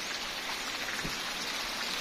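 Heavy rain falling during a storm, a steady dense hiss of drops on surfaces, constant and moderately loud with no voices.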